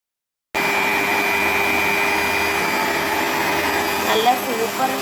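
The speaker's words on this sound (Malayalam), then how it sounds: "ഇട്ട് കൊടുത്തതിന് ശേഷം നമുക്കിതിനെ ഒന്ന് അടിച്ചെടുക്കാം." A blender whirs steadily as it mixes a Sharjah shake of milk and Boost powder, a loud continuous motor drone starting abruptly and holding even throughout, with slight wavering near the end.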